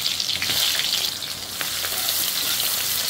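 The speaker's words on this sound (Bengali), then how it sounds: "পেঁয়াজটা লাল করে ভাজা হয়ে গেছে।" Chopped onion fries in hot oil in a pan with cumin seeds, a loud, steady, close sizzle and crackle throughout with no voices.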